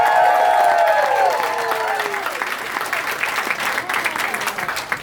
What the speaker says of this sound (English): applause rolling for your host and MC tonight